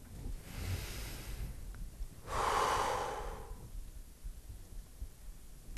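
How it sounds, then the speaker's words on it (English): Slow, deep belly breathing: a soft inhale followed by a louder, longer breathy exhale, close and alone without talking. "I cannot communicate to you enough the importance of belly breathing."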